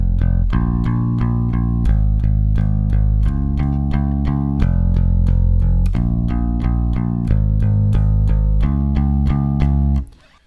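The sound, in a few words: bass guitar playing a song's verse pattern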